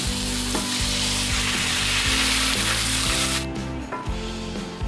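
Marinated pork for Filipino menudo frying loudly in a pan over cooked onions, a steady close sizzle with repeated scraping stirs, the hiss dropping a little near the end.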